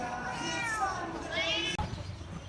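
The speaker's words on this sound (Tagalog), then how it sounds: "O, ayan, pusa yan." A domestic cat meows close by. Its rising and falling cries slide in pitch across a couple of seconds, with a voice heard alongside.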